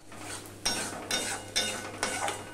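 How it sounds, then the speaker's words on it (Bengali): Ingredients for egg malai curry being stirred and fried in a pan, with repeated scraping strokes about every half second over a low steady hum and a faint background sizzle. "সবগুলো আমি দিয়ে দিলাম, দিয়ে ভালো করে আমি কষিয়ে নেব।"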